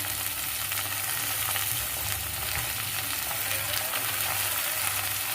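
Masala paste of onion, tomato and ginger-garlic fries in oil, a continuous mid-level sizzle and crackle holding steady throughout with no talk.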